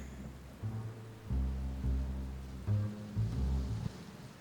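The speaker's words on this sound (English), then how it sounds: "And yes, it's still raining." Rain falling steadily with low, rolling rumbles of thunder that swell and fade several times over a few seconds, heard alone without voices.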